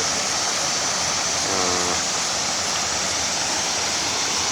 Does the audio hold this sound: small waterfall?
yes